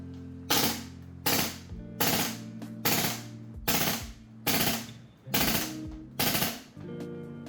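A Tokyo Marui MP9 gas airsoft gun fires through a magazine in seven or eight loud, close bursts of rapid shots, with short pauses in between and a hissing decay after each.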